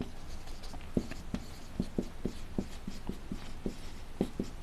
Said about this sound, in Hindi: लिख देता हूं उसको भी